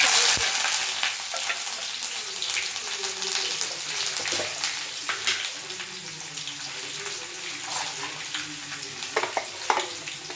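Onions and fennel seeds frying in oil in a pan, with whole spices such as cinnamon already added, for a mutton sukka; a steady broad sizzle runs throughout with occasional stirring scrapes and a faint voice in the background.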